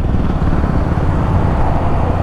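A Husqvarna motorcycle engine revving gives a loud, continuous, rough low roar that holds steady with no pause, heard close and alone.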